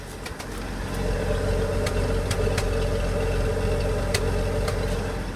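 A cold 1974 Ford F-250 with the 4.9 engine and points ignition idles close by in a steady, rough drone, with a few faint sputtering ticks and no talk.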